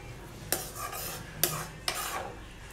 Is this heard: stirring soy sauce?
yes